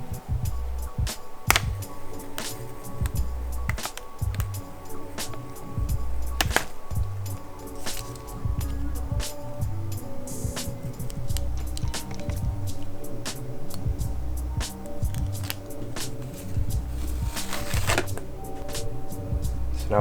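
Heat transfer vinyl artwork is cut out by hand, giving a long series of irregular, sharp snips and crinkly handling rustles close by, fairly quiet, with no talking.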